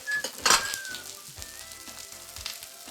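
Green and red peppers hit a torch-heated pan and sizzle loudly at once, then settle into a steady hiss with a few scrapes, close and alone.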